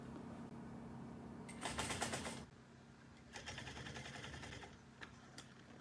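A sewing machine back-stitches on a bucket bag at a strap connector, a faint close whir with short louder bursts of needle clatter, some stops and starts between them.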